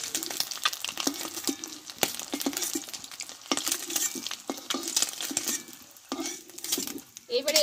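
Potatoes cooking in hot oil in a pan after eggs were fried in it for a spicy dry egg dish, with a steady sizzle under frequent clinks and scrapes of a utensil against the pan.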